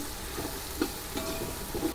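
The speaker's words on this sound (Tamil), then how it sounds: "நல்லா வதங்குது." Chili powder frying in hot oil for chicken biryani, a continuous soft sizzle with a few faint stirring scrapes, close and moderately quiet, with no voices.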